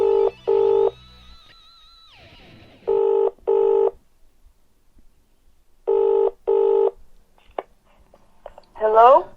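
A telephone dialing a classified advert number: a sweeping modem-like tone, then repeated double ring bursts of a UK phone line, ending with a faint voice answering.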